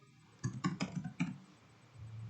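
Several quick, close key clicks on a computer keyboard for a Ctrl+F shortcut, a short cluster of presses followed by quiet room noise with no voices.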